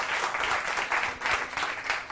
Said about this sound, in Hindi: जोरदार ताली अरुण पांडे जी के लिए